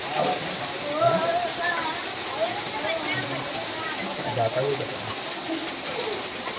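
The first monsoon rain of 2025 in the Konkan falls steadily as a constant close hiss, with faint bird calls and a murmur of talk underneath.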